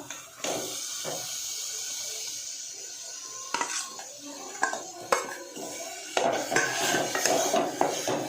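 A spoon stirs Malvani fish curry masala with mandeli fish in a pan. Close metallic clinks and scrapes come in irregular bursts, growing busier toward the end, with no talking.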